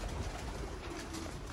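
Golden pigeons on a rooftop give a brief, continuous run of low cooing, close and fairly loud against a dense background.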